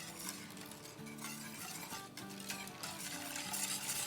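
A whisk stirs an agar-agar (china grass) powder mixture in a pot for halwa, making a continuous scraping swish over steady background music.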